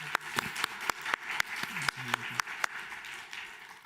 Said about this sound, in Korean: 구원하시고 사랑하시는 주님께 감사의 박수 올려드리겠습니다